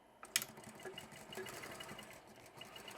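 A quilting sewing machine runs steadily through sampler-quilt fabric, a quiet, fast, even mechanical whir with one sharp click near the start, close and alone.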